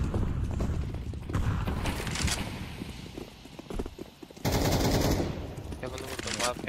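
Rapid automatic gunfire from Counter-Strike 2, in dense, loud bursts that keep coming with short gaps between them, with footstep-like clatter and scattered in-game noise in between.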